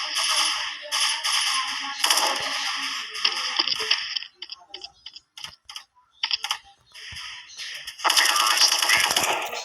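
Rapid automatic gunfire from a Gatling gun in a video game, dense bursts near the start and end with quieter scattered sounds and game effects between.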